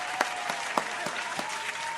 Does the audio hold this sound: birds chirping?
no